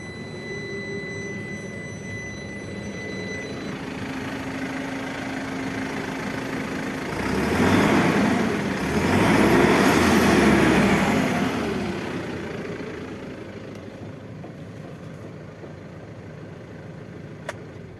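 A BharatBenz 1617RD BS6 six-wheeler truck diesel engine idles steadily, its low rumble swelling briefly around start-up and then settling back into an even, close idle with no talk.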